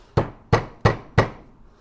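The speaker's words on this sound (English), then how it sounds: "I'm just going to tap this down home now and see how we're looking" Four sharp hammer taps, evenly spaced about a third of a second apart, drive a small pipe into a Weber IDF carburettor, each strike ringing briefly and close by.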